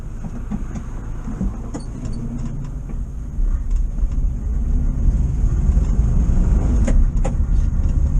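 A VW camper van nicknamed Bertie Bus driven around a roundabout after an ignition timing adjustment, its engine a steady low drone with road rumble that grows louder and rougher partway through, close and continuous with no talk.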